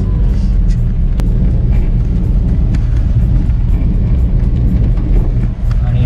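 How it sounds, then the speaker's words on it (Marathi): A motorcycle rides along monsoon-soaked wet roads, giving a steady, close engine and road rumble with wind buffeting that runs unbroken throughout. "तेवढंच गाडी चालवायला मिळतो."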